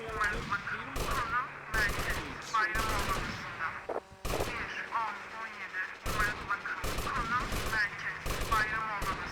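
Enemy gunfire in GTA Vice City Remastered, repeated sharp bursts of shots cracking in close succession while someone talks excitedly over them.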